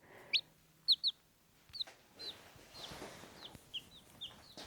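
Several sharp, high chick peeps sound in scattered bursts, fairly faint, over a quiet background.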